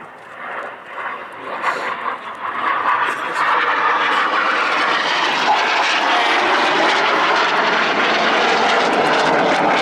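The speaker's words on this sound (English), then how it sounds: "Each aircraft is perform a power roll, crossing the middle before turning hard away from each other." Red Arrows jets in an air display at RIAT perform a power roll, a loud continuous roar of jet engines that builds in the first seconds and then holds steady overhead, with a commentator's voice faintly under it.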